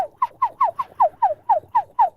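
A person imitates bird noises with about nine quick, evenly spaced gobbling calls, close and loud, in a steady rhythm with no other sound.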